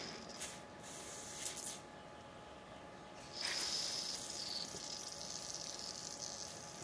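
Short bursts of aerosol spray hiss as lubricant is sprayed into a motorcycle clutch cable, then a longer continuous spray, fairly quiet, with no talking.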